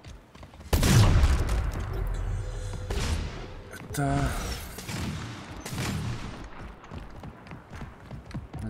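Gunfire in Splitgate instagib mode, a loud burst of shots with several sharper reports following, mixed with game effects while someone speaks.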